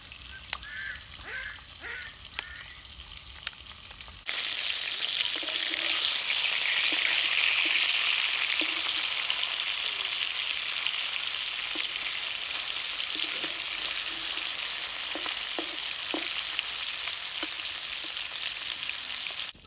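Fish frying in a pan for a home-cooked curry, a steady loud sizzle that starts abruptly after a few quiet seconds, with faint birds calling in the background.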